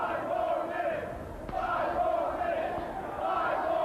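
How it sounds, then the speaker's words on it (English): A crowd at a 1997 NWA World Title wrestling match, Dan Severn versus Dory Funk Jr., chants in a steady, repeating rhythm that fills the arena. "The crowd chanting for 5 more minutes"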